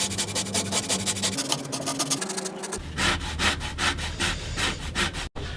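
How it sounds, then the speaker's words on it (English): A lemon is rubbed over a kitchen grater in fast rhythmic downward strokes, with a rasping scrape that is close and steady and has no talk over it. "When you grate the lemon, you want to go down"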